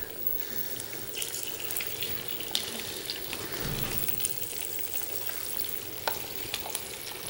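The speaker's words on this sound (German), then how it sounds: "Jetzt fängst du an brutzeln an." Flour-dusted trout fries in olive oil in a hot pan, a constant crackling sizzle with scattered sharp pops and a few louder spits, heard alone without speech.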